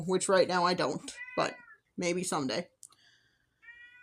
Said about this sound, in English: I do apologize for my cat screaming in the background.